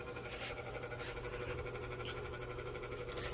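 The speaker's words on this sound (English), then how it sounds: "I don't know why my Vornado sounds like this on speed 1." A Vornado 660 large whole-room air circulator fan running on speed 1 gives a faint, continuous droning hum with a steady low tone and airy rush, unchanging throughout.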